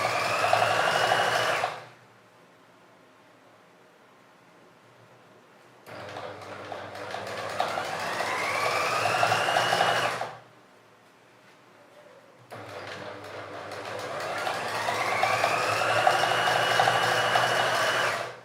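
A sewing machine stitching trouser hems runs in three steady, whirring bursts of a few seconds each, separated by short silent pauses, close and fairly loud with no talk over it.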